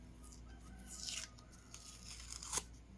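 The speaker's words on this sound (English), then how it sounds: "let's get this sticker off the back" Sticker backing peeled off a piece of vegetable-tanned leather: a quiet, close, brief ripping rasp, then a second short tearing snap a moment later, over a faint steady room hum.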